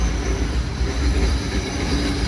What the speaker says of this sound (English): It is a city of trams.